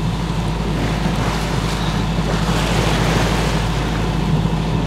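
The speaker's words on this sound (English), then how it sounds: "Look at how the waves are Hitting those rocks over there." North Sea waves break against rocks, heard from a boat as a steady, loud roar of surf and rushing water mixed with wind and engine rumble.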